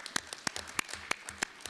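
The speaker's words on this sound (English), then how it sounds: "We can applaud them." An assembly at a Euronest Parliamentary Assembly plenary session applauds the interpreters with sparse, distinct hand claps at moderate volume, spaced and slightly uneven, with no talk.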